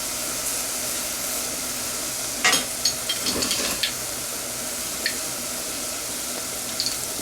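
Onion and garlic sizzle steadily in a pan for a pepperoni lasagna, a constant hiss with a few brief clinks and stirring taps partway through.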